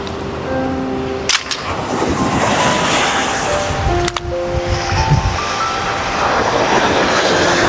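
Rough ocean surf rushes and rumbles continuously at a beach in Naic, Cavite, Philippines, waves breaking nearby amid wind noise and a couple of sharp clattering knocks.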